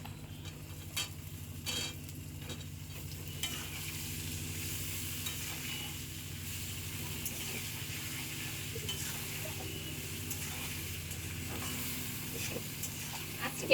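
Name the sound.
eggplant pieces sizzling in pan for hilsa fish curry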